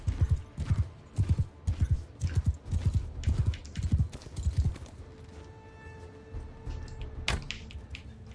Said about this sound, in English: even if I'm on a sumpter horse